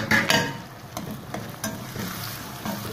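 Tomatoes and green chillies frying in oil with ginger-garlic paste and onion for a karela curry, a close sizzle opening with a couple of louder splashes and spatula knocks, then settling into a steady hiss without talking.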